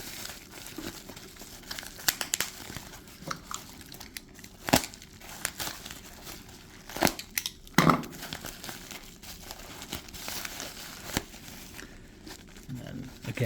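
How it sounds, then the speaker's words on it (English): Crinkling and tearing of bubble wrap and masking tape as a mini-figure package is opened, with irregular crackly bursts and a few sharper rips, close by, while a person talks over it. "wrapped in bubble wrap with masking tape holding everything together."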